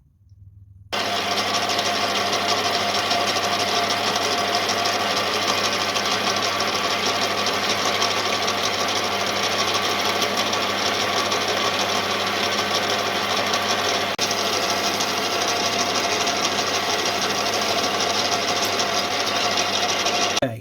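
Steady, loud machining on a carburetor stand part, as a lathe or mill cuts a lip into a piece held by an 8mm bolt; a continuous dense whirring grind runs unbroken for about twenty seconds after a brief quiet start.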